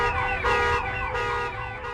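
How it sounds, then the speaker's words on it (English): Car alarms and emergency sirens wail after the Oklahoma City bomb blast, with repeating, overlapping electronic whoops rising and falling at a moderate distance and no voices. "Car alarms, store alarms, etc. The whole town is just a bunch of alarms, sirens."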